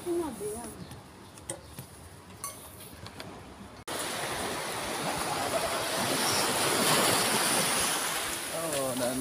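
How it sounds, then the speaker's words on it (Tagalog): Sea waves wash continuously at a beach in Infanta, Quezon, a broad roaring hiss with wind buffeting the microphone; quieter ambience with faint voices comes first, then the surf grows loud and steady. "nandito kami sa dagat"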